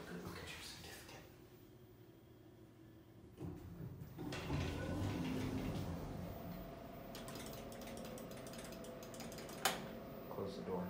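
Clanking, ratcheting mechanical noise from a ThyssenKrupp hydraulic elevator at a medical building, its door sliding and gears working, moderately close and steady, with people talking in the background.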